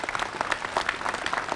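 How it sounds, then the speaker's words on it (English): Audience applause fills a hall at a community celebration, steady dense clapping at moderate level throughout, honoring an event committee. "how about a nice hand of applause for the entire committee who made this possible for you"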